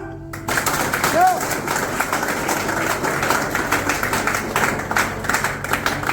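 Audience applause at a live motivational talk, a dense, continuous crackle of many hands clapping that fills the room from the half-second mark on, with voices mixed in.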